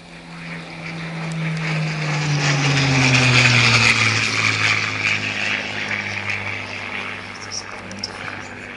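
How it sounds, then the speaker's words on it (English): A Spitfire Mark V from the Royal Air Force Battle of Britain Memorial Flight flies past at a locomotive naming ceremony, its piston engine drone swelling to a peak and then fading away, with crowd murmur beneath it. "The arrival of the Spitfire as we name the East Coast Locomotive 91-110 Royal Air Force Battle of Britain Memorial Flight."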